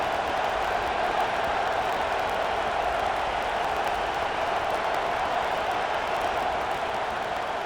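Broad, steady roar of a stadium crowd during a College Football 25 video game matchup between California and Florida State, holding at an even, loud level for the whole stretch with no distinct peaks and no talk over it.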